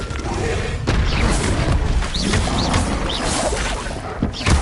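A Bombarda blasting spell explodes in Hogwarts Legacy, a loud booming crash with dense noisy debris, followed by scattered impacts and whooshing game effects and a final thump.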